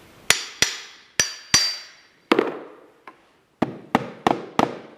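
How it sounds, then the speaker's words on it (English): Sharp, ringing hammer blows driving small galvanized finishing nails into oak, close up, in irregular bursts: four spaced strikes, a pause, then a quicker run of taps. "I'm putting in little galvanized finishing nails into oak"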